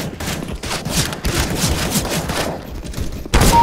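Loud gunshots in the video game CS:GO, a sustained volley of firing with rapid overlapping cracks, close and prominent, ending in a sharper burst.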